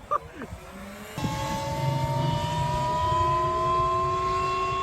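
An Eride Pro SR electric dirt bike pulls away, its motor rising from quiet into a steady high whine that climbs in pitch and holds, near and fairly loud, with some wind rush underneath.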